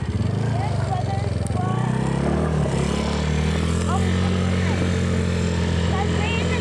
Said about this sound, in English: We're running a motorcycle with my brother